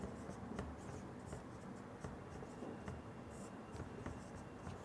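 Chalk-like scratching and tapping on a board during a Hindi lesson on poetry teaching, steady and close, with irregular strokes and taps running the whole time and no voices.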